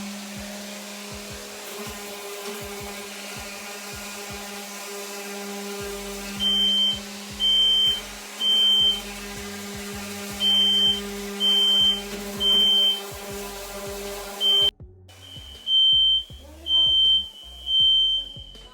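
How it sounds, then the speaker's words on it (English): A smoke alarm chirps in repeated short bursts over a steady background hum, with a mechanical whir cutting out partway through, set off by dust from joint compound on a fireplace. "My smoke detector kept going off saying fire, fire, fire."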